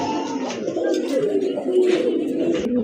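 Pigeons in a loft coo softly and continuously, with overlapping throaty calls close at hand and a faint rustle around them.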